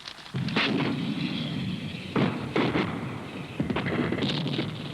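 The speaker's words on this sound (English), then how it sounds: "the enemy might just respond with artillery fire" An artillery barrage on a wooded battlefield: a continuous roar of heavy booms and rumbling blasts overlapping one another, loud and reverberant, with several sharper impacts standing out through the din.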